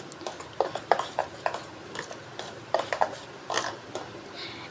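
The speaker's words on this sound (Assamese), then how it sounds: "এতিয়া মই চুজিখিনি অকণমান চামুচ এখনেৰে লৰাই লৈছোঁ।" A spoon stirs soaked semolina in a bowl while making sweet suji idli, giving a run of quick, close scraping clinks and taps in an irregular rhythm, with no voices.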